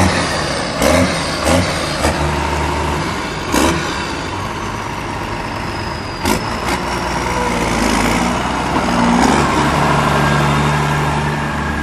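Case MX 135 tractor with an open exhaust pipe, a loud close engine running with several sharp revving blips and bursts over a steady rumble.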